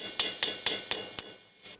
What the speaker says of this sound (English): Use a screwdriver with a hammer to widen the insulation gap for the ball joint